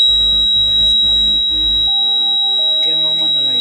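The handbrake warning buzzer on a JCB backhoe loader sounds as a series of low pulsing buzzes, then gives way to steadier tonal beeping that lingers close and clear.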